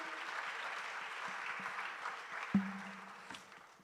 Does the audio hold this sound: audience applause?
yes